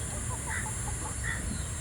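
A free-range hen dust bathing on a small farm gives a few soft clucks over a steady background hiss.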